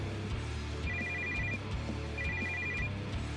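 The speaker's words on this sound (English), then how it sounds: "Your phone ringing?" A telephone rings in the horror video game Shrift 2, two bursts of a bright electronic trill over a low, steady droning hum.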